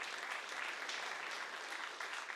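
A comedy-show audience claps in a dense, continuous burst of applause, fairly distant and even, lasting the whole short stretch.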